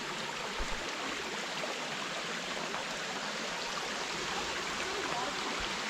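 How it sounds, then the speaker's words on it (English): A fast-flowing creek along a hiking trail near Comer's Creek Falls, a steady, full rushing wash of water that stays even and continuous throughout. "the path opens up to this nice creek here. Oh man, and this thing's really flowing."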